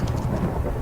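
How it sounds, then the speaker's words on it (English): Thunder rumbles in a tornado survival video game, a dense, loud, continuous low roar mixed with rain noise, heard briefly with no talking. "Still thunder."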